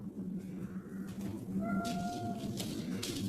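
A house cat gives a single drawn-out meow, a thin tonal cry standing out over steady low room hum and background noise.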